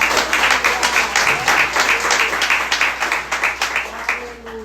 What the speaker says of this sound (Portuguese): Você pode dar uma salva de palmas ao Senhor?